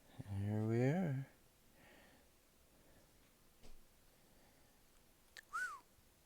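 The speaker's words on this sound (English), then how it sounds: "Pardon my whistle." A person whistles a rising, wavering tune for about a second, then pauses, followed later by a short, sharp whistled chirp, close and fairly clear against quiet room sound.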